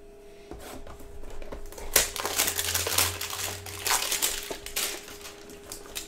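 Foil hanger pack of 2018-19 Panini Chronicles Basketball cards being torn open, a steady close crinkling and crumpling of wrapper over about six seconds, with a few sharper rips and no talking.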